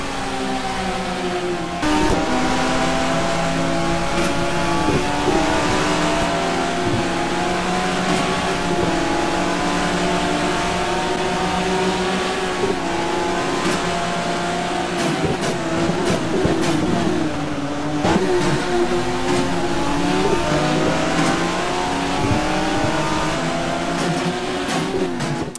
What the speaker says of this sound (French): on vous a laissé profiter un petit peu du moteur de cette Opel Vectra qui a été mis à rude épreuve aujourd'hui